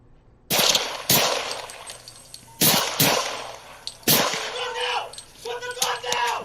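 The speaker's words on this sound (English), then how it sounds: "it looks like he took what was available to him to at least get some rounds down range" Gunshots fired beside an F-150 truck during a police shooting incident, several sharp, loud cracks in an uneven sequence with gaps between them, followed by fainter clattering and rustle.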